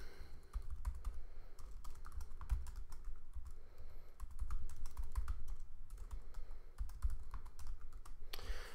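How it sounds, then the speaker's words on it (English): Steady typing on a computer keyboard while entering code, a continuous run of close, quick key clicks with no talking. "let me type something out real quick"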